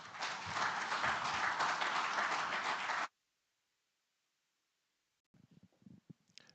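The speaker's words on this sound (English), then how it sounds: "Can we give him a big round of applause one more time?" Audience applause at a Rwanda future skills forum, a dense, loud burst of many hands clapping for about three seconds that stops abruptly, followed by silence and then faint scattered room noise.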